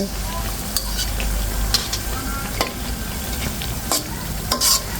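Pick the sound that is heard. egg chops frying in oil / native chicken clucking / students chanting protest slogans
egg chops frying in oil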